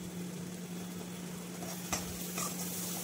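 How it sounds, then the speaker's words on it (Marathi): Onion, tomato and spice paste of coconut, garlic, ginger and coriander fries in oil for a Makul (squid) dish, giving a steady close sizzle with a couple of faint stirring scrapes and no talking. "आता मस्त वाटण हे तेल सुटेपर्यंत आपण भाजून घेणार आहोत।"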